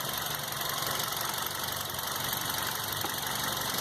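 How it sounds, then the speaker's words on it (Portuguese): VW Gol G6 engine misfiring, a steady broadband idle with an uneven, knocking rumble running continuously at close range, with no voices. "o motor falhando."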